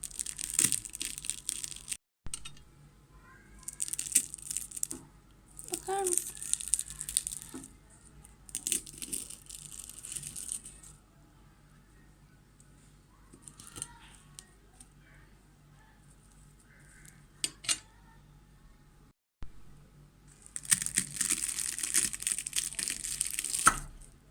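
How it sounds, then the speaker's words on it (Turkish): Bursts of loud, crackly crunching from a hot, freshly fried tahini roll baklava topped with hazelnuts as it is broken or bitten, coming in several separate crisp episodes with quiet gaps between them. "Hala çok sıcak ve size çıtırtısını dinletmek istiyorum."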